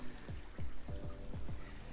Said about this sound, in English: This is also a zero-edge design pool, so that water does actually flow over into this nice rock feature right here